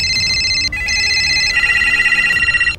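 Telephones at the defence ministry in Delhi ring loudly and without a break, bright electronic bell tones trilling in overlapping bursts.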